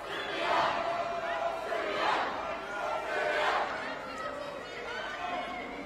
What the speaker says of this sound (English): Josh is being encouraged by the home crowd